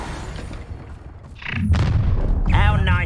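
A Confringo spell bursts in Hogwarts Legacy gameplay, with a booming blast and crackling debris over rumbling combat noise and a voice shouting.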